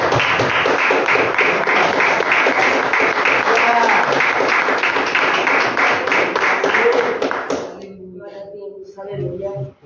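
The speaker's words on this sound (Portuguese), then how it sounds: "Vamos aplaudir o Senhor mais um pouquinho?" A church congregation claps in praise during a worship service, a loud, rhythmic burst of many hands beating in time for several seconds before it breaks off and a voice begins speaking.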